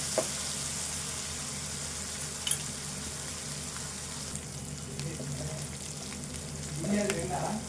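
Onions frying in a pan for goat liver curry give a continuous soft sizzle with occasional stirring clinks, fairly quiet and steady throughout.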